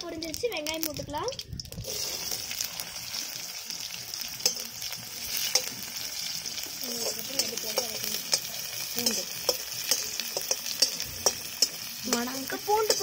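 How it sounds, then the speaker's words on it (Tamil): Onions frying in hot oil after mustard seeds have spluttered, making a continuous close sizzle with frequent sharp crackles and stirring scrapes, as a Tamil lunch of drumstick sambar and beetroot poriyal is cooked, with a brief voice at the start. "இப்ப கடுகு நல்லா பொரிஞ்சிருச்சு, வெங்காயம் போட்டுக்கலாம்"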